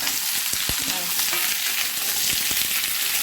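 Pumpkin, potato and greens stalks with chilli being sautéed in a pan, a continuous close hissing fry broken by a few quick stirring knocks.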